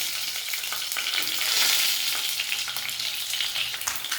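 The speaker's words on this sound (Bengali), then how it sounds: "এখন আমি এই কড়াইতে তেল দিয়ে এই ডিমটাকে ভাজব। এক এক করে ডিমগুলো আমি তেলে দিয়ে দিচ্ছি।" Eggs fry in hot oil in a wok, a soft, steady sizzle and crackle with faint spatters, close and without talk.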